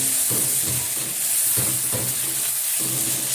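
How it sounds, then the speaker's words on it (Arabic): Tripe sautéing with onion in a hot pan before tomatoes are added, a constant close sizzle with periodic bursts of stirring and scraping at a loose rhythm, no voices. "وهشوحها مع البصله قبل ما احط الطماطم"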